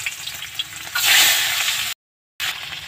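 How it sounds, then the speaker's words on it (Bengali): Fish fries in hot oil in a wok, giving a loud, close, crackling sizzle that swells after a second, breaks off briefly, then resumes. "মাছটা ভেজেও নিচ্ছি।"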